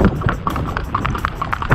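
A young horse trotting, its hooves clip-clopping in a steady, fairly close rhythm with no voices over it.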